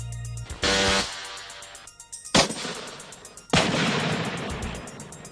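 Metal Storm electronic weapon system firing in several loud, sudden bursts, each a dense roar of rapid shots that decays over about a second, heard alone.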